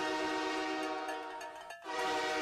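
A loud Buffalo Bills train horn blares over a football game broadcast, a sustained multi-tone blast with one brief dip near the end before it swells back.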